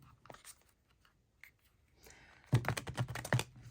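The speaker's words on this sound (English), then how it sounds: "I feel like they needed one more shuffle." A deck of tarot cards is shuffled close by, starting with faint scattered taps and rustles, then breaking into a louder run of quick riffling snaps in the last second.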